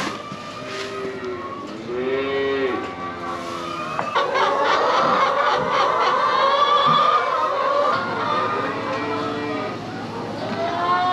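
Farmyard chickens clucking at feeding time on a cattle farm, a steady chorus of hen calls and squawks through most of the stretch, moderately close, with other farm noise behind.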